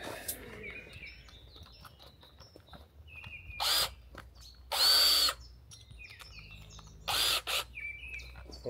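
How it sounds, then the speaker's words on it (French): A cordless drill-driver sends screws into a converted bus, fitting a turbo-ventilated roof vent, in three loud high whirring bursts of about a second each, while birds chirp steadily in the background. "On va prendre la visseuse là, c'est la perceuse qui est là"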